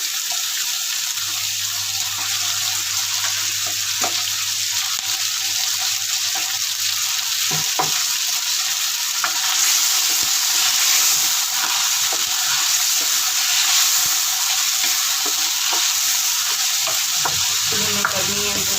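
Pre-boiled mutton frying in a karahi, a steady close sizzle with occasional stirring scrapes and clinks running throughout, with no talking.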